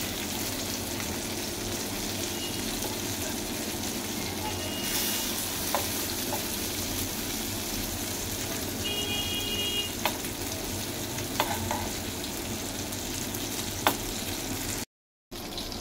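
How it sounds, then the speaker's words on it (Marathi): Bangda mackerel fries in a pan with a steady, close sizzle and a few faint clicks, the crackle continuing alone without talk until a brief cut near the end. "आता खालच्या साईडने परत एकदा आपण फ्राय करून घेतली ना, मस्त कडक होणार कमी जास्त गॅस करून."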